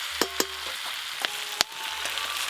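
Malabar spinach goes into a pan of hot oil with spices, setting off a steady sizzle broken by a few sharp clicks and scrapes of a spatula, close and moderately loud, with no voices.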